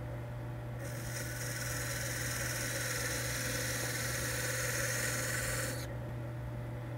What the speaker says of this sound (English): Now I use a parting tool to define where the body of the top stops.